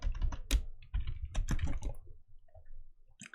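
Typing on a computer keyboard during software work, a quick irregular run of clicky keystrokes that thins out into a few scattered taps, close and fairly soft.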